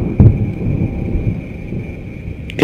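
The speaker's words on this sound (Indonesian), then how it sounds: "mereka sudah tidak mendengar apa-apa lagi selain suara hujan yang disertai guntur" Thunder with rain used as a story sound effect, a steady low rumbling wash with a heavy thump near the start and a sharp crack at the end, loud and without voices.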